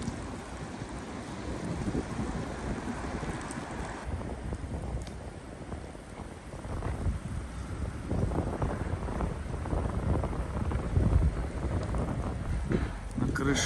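Strong gusty wind blows along a city boulevard during a heavy snowstorm in Ufa, roaring and buffeting the microphone in surges that swell louder toward the end, while a person talks faintly under it.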